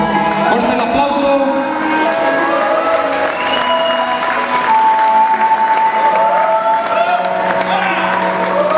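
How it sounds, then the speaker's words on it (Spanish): An audience claps and cheers loudly for Darío Huesca, a continuous crowd ovation with whoops, mixed with sustained tones that sound like music playing underneath. "Señor Darío Huesca, fuerte el aplauso"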